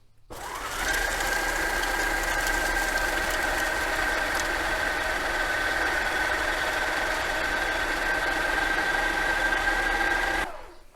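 An electric stand mixer creams butter and sugars on medium speed for cookie dough, its motor whirring in a steady, loud drone with a high whine that starts and stops cleanly, with no talking.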